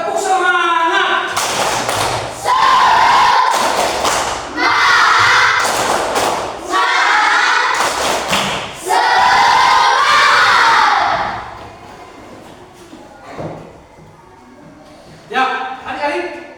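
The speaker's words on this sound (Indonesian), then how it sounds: "Tepuk semangat." Children in a classroom, led by a teacher, do a 'tepuk semangat' spirit clap and cheer: loud, rhythmic bursts of shouting and thumping claps in quick succession that drop off into quieter talk near the end.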